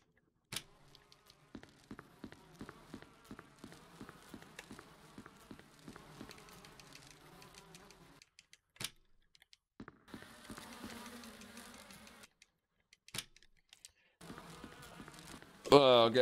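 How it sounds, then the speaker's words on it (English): Insect buzzing from a swarm of bees in the Resident Evil HD Remaster video game, a rhythmic droning hum with pulsing beats over the first eight seconds, then scattered bursts and clicks. "All right, it's bees in here."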